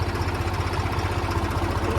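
A tractor engine chugs steadily at a low pitch while climbing an embankment, close and continuous, with a rough, pulsing rumble.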